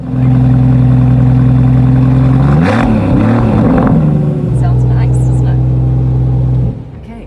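A Brabus car engine starts and runs close by, a loud steady rumble with a brief revving surge in the middle before settling back to idle and then cutting off near the end.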